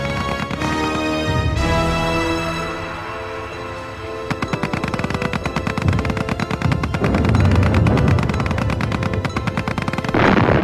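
Dense machine-gun bursts and booming artillery fire in a World War I battle scene at Verdun, loud and continuous with rapid rattling volleys layered over deep blasts.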